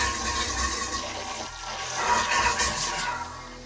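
A newly installed toilet in a laundry room flushes with a loud, continuous rush of water and gurgling air bubbles, close by and alone for nearly four seconds.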